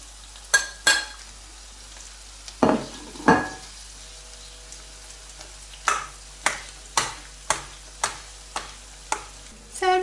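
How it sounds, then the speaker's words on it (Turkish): Spoon scraping and clinking in a bowl as roasted eggplant is stirred into yogurt, a series of sharp, evenly spaced knocks and scrapes, close and alone with no talking. "Közlediğimiz patlıcanları yoğurdun içine katıp güzelce karıştırıyoruz."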